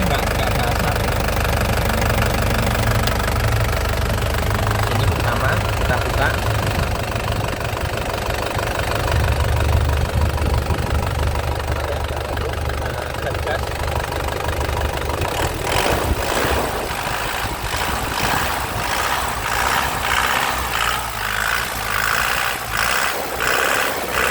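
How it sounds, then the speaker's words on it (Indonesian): A 2009 Isuzu Panther LS Turbo diesel engine idles steadily once warmed up, a continuous low rumble with a knocking, ticking texture that holds throughout, heard up close. "stasionernya suaranya enak, jadi mesinnya memang mesin sehat"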